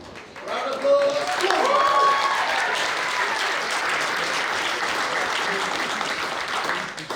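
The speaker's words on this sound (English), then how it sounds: "Round of applause." Guests at a wedding reception applaud as the best man is introduced for his speech, a loud, full burst of clapping that swells quickly and holds steady with a few cheers and voices mixed in.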